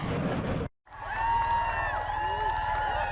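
A large crowd outside Buckingham Palace cheers newly proclaimed King Charles III, a loud wash of shouts and applause cut by a brief gap, then continuing with whistles and sustained whoops from a distance.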